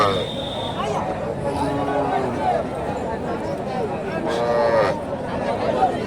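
Local cows low intermittently amid a busy outdoor crowd at a cattle market in Naogaon, with people chattering and talking throughout.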